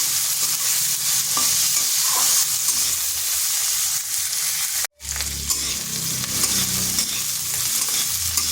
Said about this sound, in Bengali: পেঁয়াজটাকে খুব বেশি ভাজবো না, হালকা একটু ভেজে নেব।